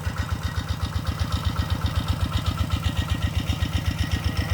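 An engine-driven water pump drains a pond in the countryside, its motor chugging in a fast, even, regular rhythm that sounds loud and close throughout.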